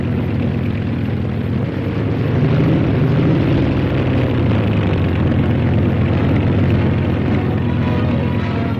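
Helicopters lift off and fly away from a site near Madrid, heading for Torrejón de Ardoz air base, giving a loud, steady low engine and rotor drone throughout with no talk.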